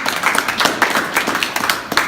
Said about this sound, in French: On va applaudir Simone